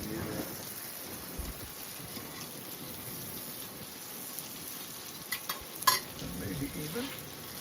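Shrimp and biscuits fry in butter on a flat griddle. The sizzle is steady and soft, with occasional light scrapes and clinks from stirring near the end.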